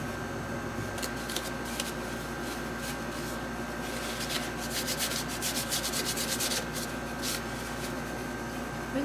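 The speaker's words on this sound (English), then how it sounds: "let me wipe this down" Cloth rubs steadily over a handmade wooden star, a close, continuous dry swishing and scrubbing with brighter strokes toward the middle, under a constant background hum and no speech.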